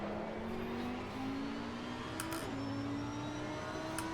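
Racing cars in Assetto Corsa Competizione drone steadily through a sustained engine note that rises slowly in pitch, with a couple of brief whooshes as cars close in on rival Ferraris.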